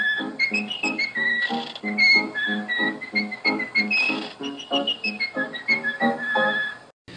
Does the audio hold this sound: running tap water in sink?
no